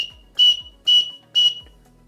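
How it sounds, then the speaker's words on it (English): Three sharp, shrill blasts on a survival-kit whistle, evenly spaced and close, each preceded by a soft breathy thump. "Pretty good whistle for that."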